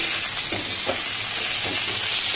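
A steady, loud sizzle of tomato hitting rice frying in a pan for a Bengali muri ghonto with katla fish head, with faint scraping of stirring and no talking.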